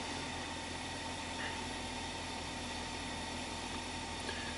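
A Chevy Silverado pickup engine idling with a steady, even drone and no revving, heard continuously at moderate level with no voices.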